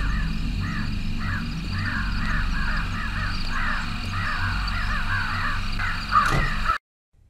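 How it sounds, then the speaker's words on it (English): Crows caw repeatedly in a steady, evenly spaced series in the horror game Chilla's Art The Kidnap, set over a constant low ambient hum, with a brief louder thump near the end. "I like all these crows."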